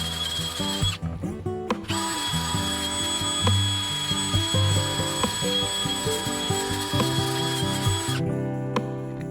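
A steady, loud orbital sander whine with a buzzing hum runs throughout as it sands a wooden whiskey barrel stave, briefly cutting out near the start and again near the end.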